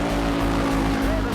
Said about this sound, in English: These engines blast out more than 130 decibels